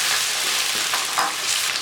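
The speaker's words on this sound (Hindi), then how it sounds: "अब हम इसको इसमें अच्छे से फ्राई करेंगे।" Large scored chicken leg pieces frying in oil in a karahi, a dense, loud, continuous sizzle heard up close without any talk.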